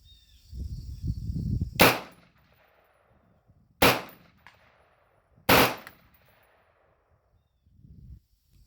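A Keltec RDB rifle fired from an Adventure Line magazine lets off three sharp, loud shots spaced a second or two apart outdoors, after some handling noise, with quiet gaps between each report.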